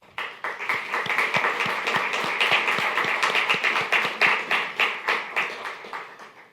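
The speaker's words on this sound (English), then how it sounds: "together, I think we all deserve a round of applause" Audience at a Daytona Beach State of the City address breaks into applause, a sustained round of many hands clapping from a room full of people, steady and moderately loud before tapering off.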